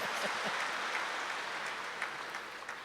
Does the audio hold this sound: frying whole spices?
no